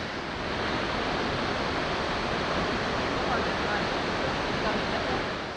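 Snoqualmie Falls pours onto rocks in a steady, loud, close roar of broadband rushing water that holds unbroken for the whole stretch.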